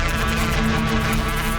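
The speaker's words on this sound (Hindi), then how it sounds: "और मधुमक्खी के छत्ते को छेड़ना" Bees swarm around a beehive with a dense, steady, loud droning buzz that fills the whole moment without pause.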